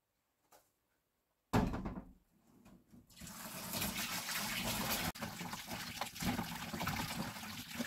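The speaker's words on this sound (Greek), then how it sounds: "Καλό πλύσιμο στα έντερα εξωτερικά με πολλά νερά" Pig intestines for kokoretsi being rinsed on the outside under plenty of running water: a short clatter, then a loud, steady gush and splash of water that continues to the end, with no talking.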